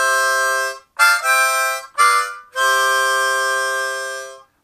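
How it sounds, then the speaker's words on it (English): Harmonica playing the closing part of a riff, a long held chord, two short bursts, then another long sustained chord, bright, close and with no one talking. "So that last section will sound like this."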